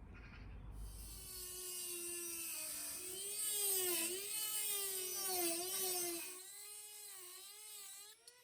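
A Dremel rotary tool with a cutting disc grinds through rusted metal on a Mercedes R107, a loud, steady high-pitched whine that rises and dips in pitch as the disc bites, running almost continuously with no talking.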